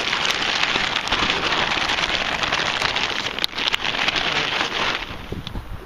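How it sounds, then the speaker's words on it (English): Heavy rain pelts down hard and constantly, a dense close hiss of drops drumming on surfaces with no voices. "it's raining so much"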